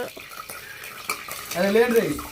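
Oil is stirred in a pan while chicken fry is made outdoors among green fields, with soft scraping and light clinks nearby, and a voice briefly talking at the end.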